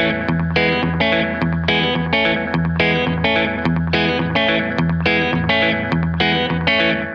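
Played up to speed on an electric guitar with distortion and chorus, a riff repeats in quick, even, driving picked figures, close and loud throughout.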